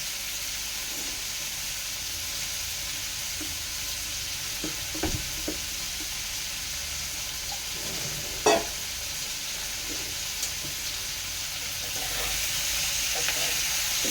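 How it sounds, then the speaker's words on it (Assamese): Jackfruit pieces frying for curry in a pan, a steady soft sizzle with a few faint clinks and stirring scrapes, no talk. "ভালকৈ অলপ ভজা ভজা কৰি ল'বা"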